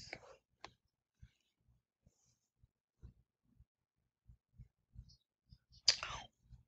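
Computer mouse clicks while setting up a print-then-cut file in a design program, a few faint single clicks scattered across a quiet room with soft low taps between them.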